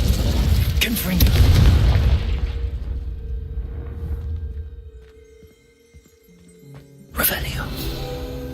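A Confringo blasting spell explodes in the video game Hogwarts Legacy: a loud booming burst rolls through the opening seconds, fades into low hum, then a second sharp blast hits near the end, with game voices in the mix.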